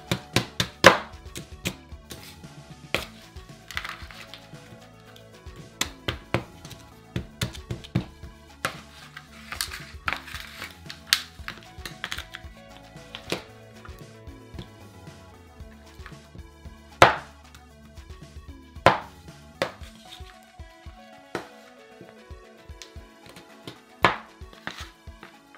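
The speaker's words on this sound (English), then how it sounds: "Now let's just crush and mix everything up." Repeated sharp chopping and tapping as ice cream and rainbow sprinkles are crushed and mixed by hand, irregular close knocks on a hard surface for a long stretch with no talk.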